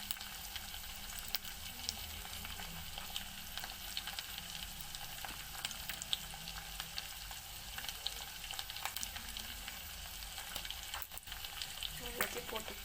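Curry leaves, mint leaves and spices being sautéed in oil for a drumstick kara kuzhambu make a faint, continuous sizzle with soft crackles throughout.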